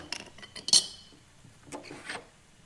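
A 15-inch adjustable wrench on the fuel tank level sender of a Mercedes W124, a few scattered metallic scrapes and clanks, close and moderately loud, with no voices.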